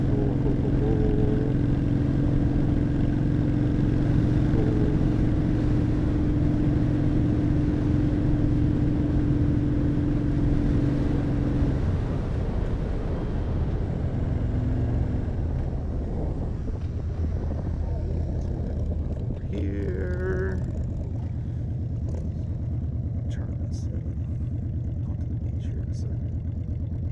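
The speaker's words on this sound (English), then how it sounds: "Let's pay attention to all these cars." Cars pass in traffic as heard from a moving motorcycle in Englewood, Florida, with a steady engine hum and road and wind roar, and tones that shift and fade partway through as vehicles go by; someone speaks over it.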